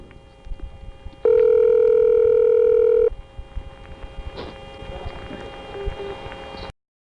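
A loud, steady two-pitch telephone double tone from Charlottesville sounds for about two seconds, framed by quieter line noise and clicks.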